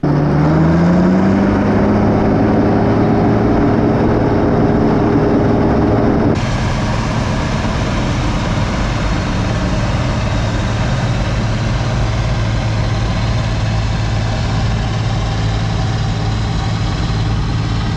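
A Bizon Rekord Z058 combine harvester engine runs steadily, a loud, close, continuous drone with a rising whine early on that then settles into an even, rougher roar.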